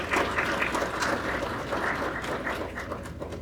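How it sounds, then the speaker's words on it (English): Audience applause honoring event sponsors at an Earned Sick Time Act preparation seminar, a dense steady clapping that holds for a few seconds without talk. "just giving them a quick round of applause"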